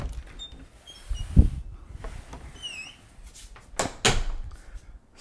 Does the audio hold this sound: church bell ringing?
no